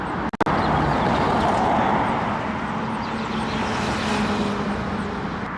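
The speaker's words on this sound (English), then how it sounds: "I just wanted to show some moving objects like these cars going by." Cars pass along a road nearby in a steady, loud wash of tire and engine noise that never lets up, with a brief knock near the start.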